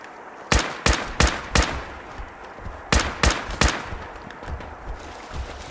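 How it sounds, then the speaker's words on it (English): Gunshots in Fallout 4 aimed at enemies' legs: two close bursts of four loud, evenly spaced sharp shots, separated by a short pause, with fainter shots trailing off afterward. "Excuse me, I'm shooting you in the fucking leg"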